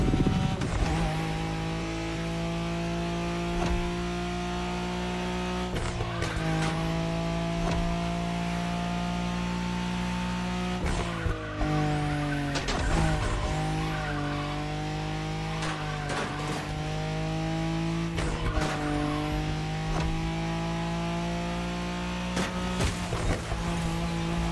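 A Nissan Skyline in a Wangan highway race in The Crew Motorfest roars continuously at high revs, its pitch climbing and dropping sharply as it shifts through the gears.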